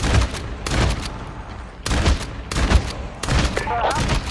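Bursts of gunfire in Call of Duty Mobile's zombie mode, several loud rapid volleys repeating at close range, separated by brief gaps.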